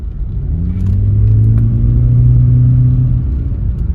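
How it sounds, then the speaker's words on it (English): A 2010–2015 Toyota Prius engine runs steadily during a test drive after exhaust and drivetrain mount repairs, a loud close hum with a slight rise in pitch, no voices. "All I hear is the engine running."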